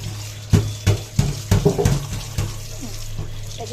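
Something is washed under a running tap, with irregular splashes and gushes of water breaking over a steady flow close by.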